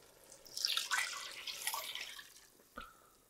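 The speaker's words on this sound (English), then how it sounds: "Next is, I have beef stock." Beef stock poured into a pot of onion soup, a close liquid splashing and gurgling pour lasting a couple of seconds, followed by a single sharp knock, no talk.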